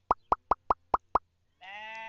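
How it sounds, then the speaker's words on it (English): A sheep bleats in the Farming & Supermarket Simulator video game. Six evenly spaced, soft plopping clicks come first, then a short, clear bleat rises at the end, with no talking over it. "Feed our sheep."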